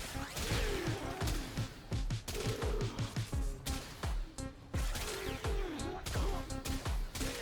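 A primary weapon in the video game Warframe fires in repeated sharp bursts and impacts, spaced irregularly across the stretch, with someone talking over the shots.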